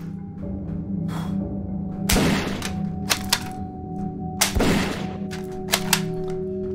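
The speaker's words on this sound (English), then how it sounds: "Yo, I fired two shells, bro. I gotta reload" Two loud gunshots fired inside a home, roughly two and a half seconds apart, each a sharp blast with a ringing tail over a steady electrical hum, followed by a few smaller clicks and knocks.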